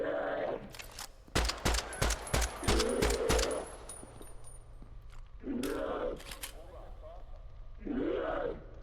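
Rapid bursts of gunfire from a recoilless gun in a video game, a loud close volley of about eight sharp shots in quick succession, with grunting voices and talk before and after.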